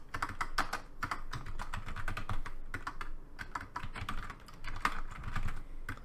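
Steady typing on a computer keyboard while coding in GameMaker 2, close crisp key clicks in quick irregular runs with brief pauses, heard alone without talk.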